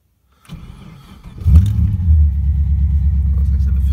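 A car's engine rumbles low and steady, swelling to a louder, heavier drone as it pulls up a steep hill on a drive around the block, sustained and close with no talk over it.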